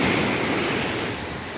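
Big ocean waves roll onto the shore at Malasugi during low tide, a loud, steady wash of surf with no pauses.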